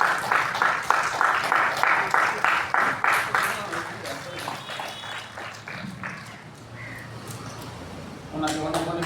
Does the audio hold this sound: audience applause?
yes